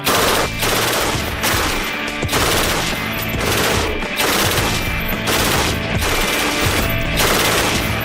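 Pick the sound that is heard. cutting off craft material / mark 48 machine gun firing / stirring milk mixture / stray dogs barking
mark 48 machine gun firing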